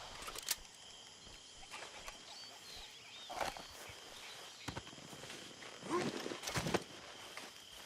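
Horse hooves clip-clop in the open-world western game Red Dead Redemption 2, a few faint scattered steps amid quiet outdoor ambience and birds, with occasional soft sounds.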